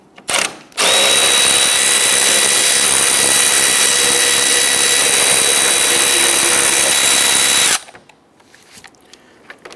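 A power tool spins hard and continuously for about seven seconds, loosening and removing a row of 10mm bolts across the top of a 2011-2019 Ford Explorer. A loud, even whine starts and stops abruptly, with brief clanks before and after.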